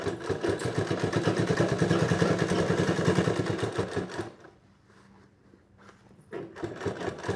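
Sewing machine stitching an apron collar, a steady rapid mechanical chatter running loud for about four seconds, pausing briefly, then starting up again, with no talking.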